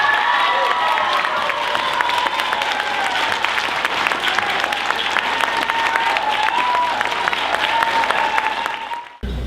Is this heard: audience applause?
yes